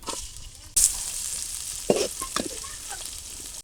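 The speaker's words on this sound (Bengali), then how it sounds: "কড়াইতে তেল দিয়ে দিলাম পেঁয়াজ কুচি" Chopped onions hit hot oil in a wok, bursting into a loud, steady sizzle near the mic that carries on with a few spatula stirs and no talking.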